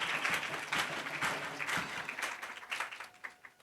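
A Hindi-speaking church congregation breaks into quiet applause. It is a dense patter of clapping that tapers off toward the end.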